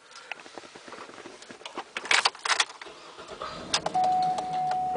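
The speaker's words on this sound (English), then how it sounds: "let me get inside the car and get it started" A 2009 Cadillac Escalade ESV is started from inside the cabin: key and interior clicks and rustles, then the engine cranks and catches, settling into a steady low idle accompanied by a faint electronic chime tone.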